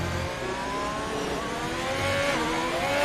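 Ferrari race car in a PlayStation eRacing league round at the Mexico circuit, its engine droning steadily at high revs with rising harmonic whine, a continuous loud roar that swells slightly near the end.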